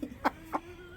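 Two short, close chicken clucks spaced about a quarter second apart, sharp and fairly quiet, from a chicken in a small pen near a turkey.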